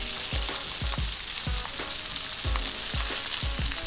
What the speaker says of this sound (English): we are done searing this